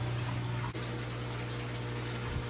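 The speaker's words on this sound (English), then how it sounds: "let me go ahead and get this sand rinsed" Running water gushes steadily over aquarium sand as it is rinsed for a 125-gallon freshwater tank. The rush is loud, close and continuous over a low pump-like hum, with a brief knock near the start, and no one talks.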